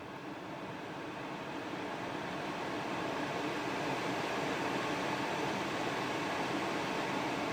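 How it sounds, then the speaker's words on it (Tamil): Auto climate control air conditioning in a 2024 Hyundai i20 Sportz blows a steady, close broadband hiss that swells slightly in the first seconds and then holds even, with no talking. "ஏசியோட கூலிங் எப்படி இருக்கு அப்படின்றத பார்ப்போம்."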